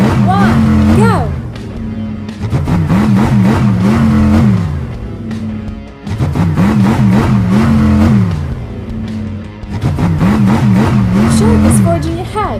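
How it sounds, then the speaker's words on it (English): Cartoon monster trucks rev and race in repeated surging engine roars that climb and fall in pitch, loud and continuous, with a voice talking over them. "The monster trucks are ready to start."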